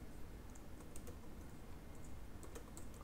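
Quiet, fairly distant keystrokes on a computer keyboard as Laravel PHP code is typed, a sparse irregular tapping of single keys and short runs, alone without speech.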